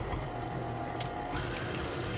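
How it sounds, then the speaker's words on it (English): An electric whisk or mixer creams unsalted butter for vanilla buttercream frosting, running as a steady, close mechanical whir with a constant hum throughout. "And a whisk and we'll cream the butter."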